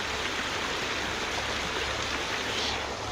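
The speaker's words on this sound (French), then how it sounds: "ce petit bruit aussi de l'eau qui court" A small stream of running water rushes in a steady, dense hiss without pause, close by and moderately loud. No voices or other sounds break through.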